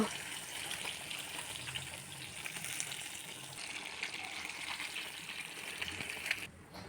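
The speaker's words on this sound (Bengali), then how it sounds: "মাছটা হালকা করে ভাজবো, পাবদা মাছ নরমই হয়।" Pabda fish fry gently in hot oil in a kadai, giving a steady, close, broadband hiss with fine crackling throughout that drops off abruptly at the very end.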